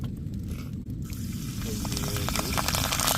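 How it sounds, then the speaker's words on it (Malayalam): Fish frying on a tawa gives a steady, dense sizzle that grows louder and more crackly partway through, with voices talking over it. "തവ ഫ്രൈ"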